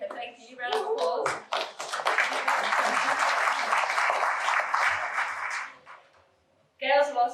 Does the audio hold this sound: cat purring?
no